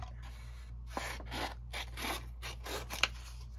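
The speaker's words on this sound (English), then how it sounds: "These scissors, new, they don't open all the way." New scissors that don't open fully snipping paper, a series of short crisp cuts in an uneven rhythm, close and quiet, ending on a sharper click.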